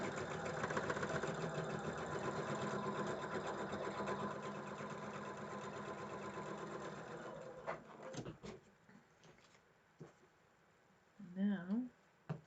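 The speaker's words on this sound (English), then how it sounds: "stitch this right on." A sewing machine stitches dark blue fabric onto a quilt block, running steadily for about eight seconds before stopping, followed by quieter handling sounds and a short burst of talk.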